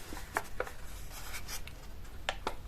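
Origami paper being folded and creased for a gift box, with a few short crisp crinkles and rubbing swipes scattered over quiet room tone, close and fairly faint.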